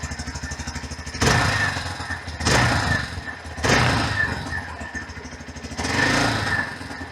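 A Hero XPulse 200 4V Pro motorcycle engine rumbles steadily, recorded close to the exhaust, with four loud surges as the throttle is blipped, each revving briefly before dropping back to idle.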